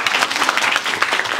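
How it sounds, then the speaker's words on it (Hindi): A classroom of schoolchildren clapping together in dense, rapid, fairly loud applause that carries on evenly for the whole moment, with no one speaking over it. "ताली बजाइए।"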